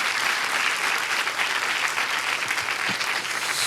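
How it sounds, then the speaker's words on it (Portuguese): A church audience gives steady, dense applause for Jesus after a prayer, a continuous close wash of many hands clapping with no pause. "Você pode dar uma salva de palmas a Jesus?"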